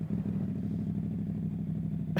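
A CFMOTO 450SS motorcycle fitted with a Yoshimura slip-on exhaust idles after a warm startup, a steady close low rumble with a faint clattering texture, holding even throughout.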